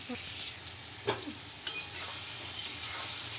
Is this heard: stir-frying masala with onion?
yes